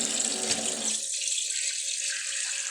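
Water runs from a tap in a steady hiss for about a second before being shut off, leaving only a faint residual trickle and quiet room tone.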